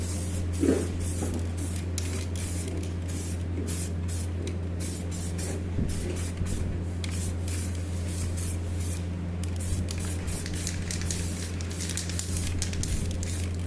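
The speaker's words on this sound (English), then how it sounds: "So that wheel has been undercoated, as you can see." Undercoating primer is sprayed onto a Land Rover Discovery 2 Td5 alloy wheel, a continuous hissing spray over a steady low hum, close and fairly loud, with no talking.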